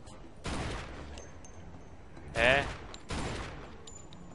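Bursts of gunfire in the Mafia II video game, three loud volleys of rapid shots separated by short pauses, with a brief exclamation from a player between them.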